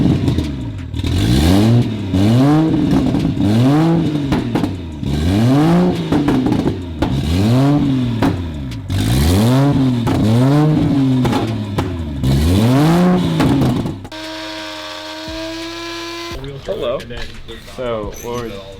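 A loud, raw BMW 335i engine with no exhaust past the downpipe revs repeatedly in rising and falling sweeps, harsh and unmuffled, then settles into a rough idle before cutting off.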